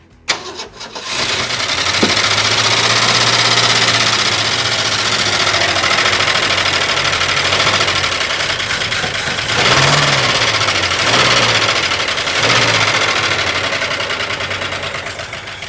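A long-dormant 1967 Mercury Commuter wagon engine cranks, catches and keeps running with a loud, rough, steady roar, revving up and down a few times before settling toward an idle, close and continuous.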